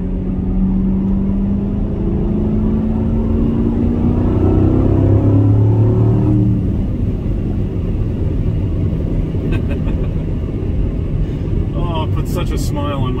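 Manual Chevrolet C7 Corvette downshifting into third and accelerating, a steady loud engine rumble with rising pitch as revs climb, heard from inside the car under a driver's talk.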